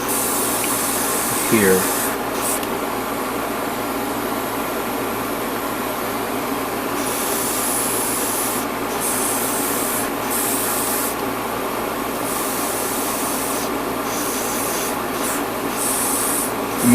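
Airbrush or spray paint hisses steadily over the joint areas of an HG Silver Bullet Char Suppressor Gundam model kit, a continuous near hiss with intermittent bursts as the trigger is pressed, while a person talks briefly early on.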